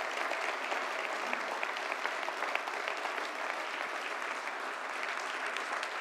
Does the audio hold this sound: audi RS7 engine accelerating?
no